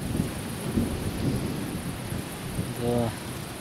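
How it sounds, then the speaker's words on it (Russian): Thunder from a fast-approaching thunderstorm rolls in as a broad, low rumble with rain and wind noise underneath; it swells toward the end, where a voice briefly cuts in. "Покажи там гром молнии."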